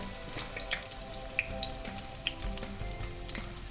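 Cut eggplant pieces with turmeric and salt shallow-fried in oil, giving a quiet, steady sizzle sprinkled with small sharp pops and crackles.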